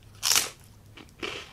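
Crunchy fried pork rinds seasoned with salt and chili powder being bitten close up, two loud crackling crunches about a second apart with quiet chewing between.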